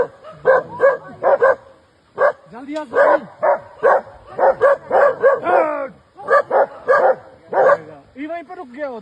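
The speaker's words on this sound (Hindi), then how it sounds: "अब क्या भौंक रहे थे?" Dogs bark repeatedly in short clustered bursts, fairly close and loud, with people talking and calling out over and between the barks.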